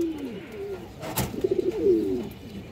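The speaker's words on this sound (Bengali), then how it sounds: "খুবই সুন্দর একটা মাদি কবুতর" A female pigeon gives a short, soft, low coo close by, with a quick pulsing burr in the middle, alone apart from a brief click.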